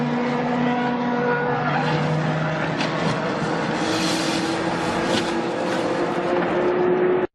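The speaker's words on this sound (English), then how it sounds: "Oh, an impact! What a crash!" A race car crashes on a racing circuit, its tires skidding in a loud, continuous roar of engine and tire noise that lasts several seconds before stopping abruptly.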